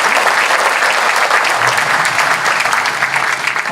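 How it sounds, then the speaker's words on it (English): A hall of fame ceremony audience applauds the section staff with sustained, dense clapping from a large crowd that stays steady and loud throughout. "If you can give a round of applause to the section staff."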